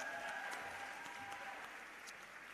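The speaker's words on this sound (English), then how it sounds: "Another round of applause for her." Soft, steady clapping from an audience at an International Women's Day conference, a faint distant patter of hands fading slightly over a couple of seconds.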